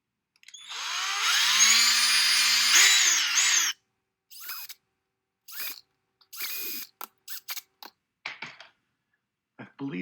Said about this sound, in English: Let me drill some holes in here.